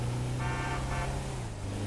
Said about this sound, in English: Don't honk at me.